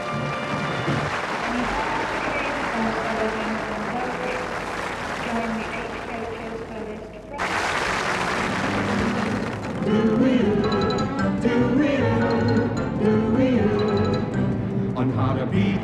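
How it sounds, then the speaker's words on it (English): Studio audience applause breaks out on cue for a Thames TV musical show, rising after a sudden cut midway as music and singing come up beneath the clapping. "cue applause"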